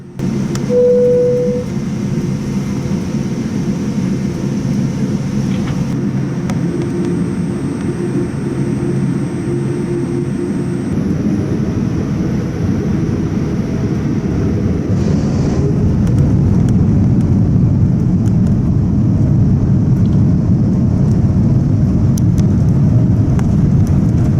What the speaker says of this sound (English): the plane's taxiing ended in a split second and the plane's already ready to take off